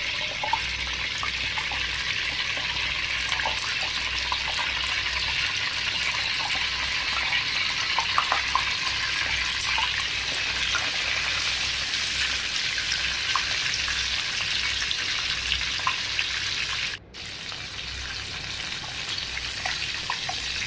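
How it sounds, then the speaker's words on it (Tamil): Mutton pieces for a Kuwaiti-style mutton mandi biryani boil in a pot with a little oil, giving a dense, continuous bubbling hiss that stays loud and steady throughout, with no talk. "எல்லா கறியும் பாயில் பண்ணிக்கோங்க."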